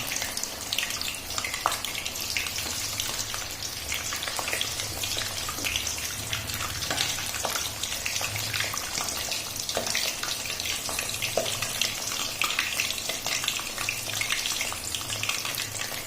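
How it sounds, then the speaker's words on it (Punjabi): Four bell peppers (capsicum) fry in a pan, desi style, making a steady close sizzle with faint crackles and pops throughout, no voices. "ਅਸੀਂ ਚਾਰ ਸ਼ਿਮਲਾ ਮਿਰਚ ਐਡ ਕਰ ਦਿੱਤੀਆਂ ਸ਼ਿਮਲਾ ਮਿਰਚ ਇਹਨੂੰ ਫਰਾਈ ਕਰ ਰਹੇ ਹਾਂ"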